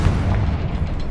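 A Confringo fire spell in Hogwarts Legacy detonates as a single loud, close boom with a deep rumbling tail that fades over about a second.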